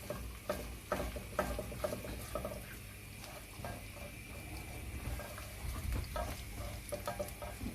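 A beaten medium-sized egg scrambles in about a tablespoon and a half of hot oil, with a faint, steady sizzle and soft scraping of a utensil stirring it in the pan.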